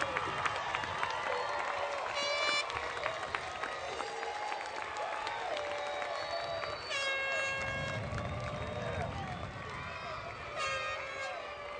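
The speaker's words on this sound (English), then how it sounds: "I think the graduates should stand and give them all a round of applause" Graduates and the crowd at a 2010 community college commencement ceremony applaud, a broad, distant clapping wash with cheering and shouts, and bursts of horn blasts sounding over it.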